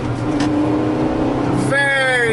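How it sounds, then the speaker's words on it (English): A 1999 Acura Integra engine held at a steady drone, then revved hard with the throttle so the pitch climbs sharply near the end, loud and close. "I'm gonna go ahead and drop it and give it some gas."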